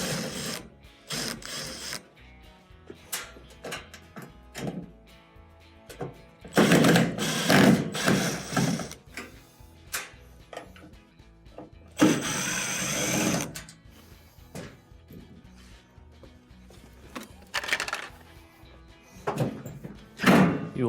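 A power screwdriver spins out Phillips screws from the top panel of a GE washer, giving several short mechanical whirring bursts between quiet pauses, close and fairly loud.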